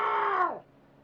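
A voice imitates a hungry cat's yowl: one drawn-out, strained cry with a slowly falling pitch that drops off sharply at the end, close and fairly loud, followed by quiet.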